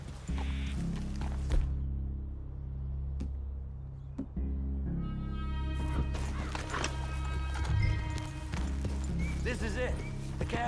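Horses in the Red Dead Redemption 2 video game, with clopping hooves and a few snorts and whinnies set against a low steady background. Sharp impacts punctuate the sound and voices are faintly present.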